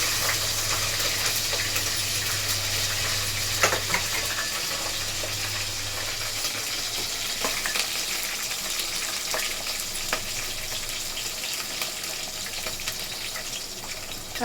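Mustard seeds and green chillies frying in hot oil, a steady close sizzle with scattered crackles and pops throughout, carrying on without any talk.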